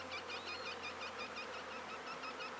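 Honeybees from strong colonies hum at an open hive, a steady close buzzing with repeated rising wingbeat pulses, fairly quiet, with no voices.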